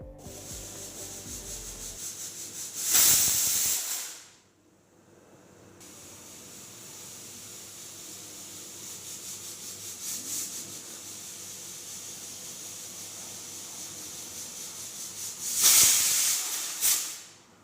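A pressure cooker cooking jowar gives off a steady steam hiss that swells twice into loud, rushing whistle bursts, one early and one near the end, with no voices.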